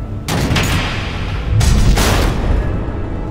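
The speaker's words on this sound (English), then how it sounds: "The missiles." Missiles explode in the Batman: The Enemy Within video game as a pair of loud, heavy booms with rumbling blasts that carry through a dense, sustained roar.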